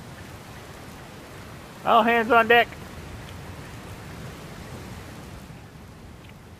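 Steady rain pours in the video game Dragon Quest Builders 2 as a continuous loud hiss through the whole stretch, with a short spoken line rising over it partway through.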